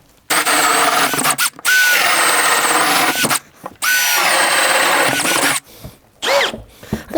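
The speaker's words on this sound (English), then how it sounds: "this thing's got a lot of torque for a little drill" A small brushless power drill runs in long, loud whining bursts up close, each starting with a pitch rise, with short pauses between, then a few quicker stuttering triggers at the end.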